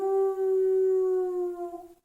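A human voice imitates a wolf howl, one long steady wavering note held for about two seconds, then fading out, loud and close.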